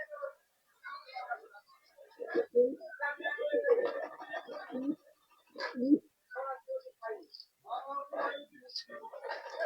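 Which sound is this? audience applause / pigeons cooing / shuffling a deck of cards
pigeons cooing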